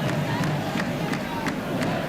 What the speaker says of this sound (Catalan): És el torn dels crits, dels ànims del públic, molt jove